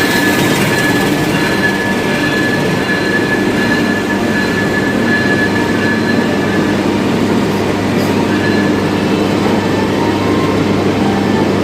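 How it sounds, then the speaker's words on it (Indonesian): The Taksaka passenger train, pulled by diesel locomotive CC206 1307, rolls along with a loud, steady rumble and faint high-pitched squeal throughout, heard up close with no talking. "Kereta api Taksaka yang saya naiki ditarik oleh CC206 1307 di Poinduk Semarang Poncol"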